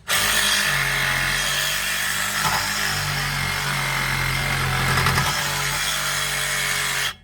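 A power tool cuts through a metal sleeve on the axle of a VW ALH TDI, making a loud, continuous grinding whine that holds steady for about seven seconds before stopping abruptly, with no talking.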